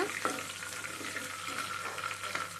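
Green chilies tempering in hot oil with curry leaves, a steady close sizzle with small crackles over roughly three seconds, no talking.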